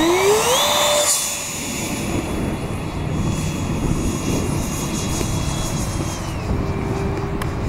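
A homemade model aircraft fitted with a thrust vectoring system runs steadily with a whining electric motor and propeller drone. It is close and continuous, with pitch sweeps up and down as the throttle changes.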